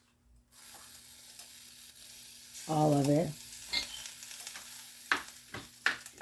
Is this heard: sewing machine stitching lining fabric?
no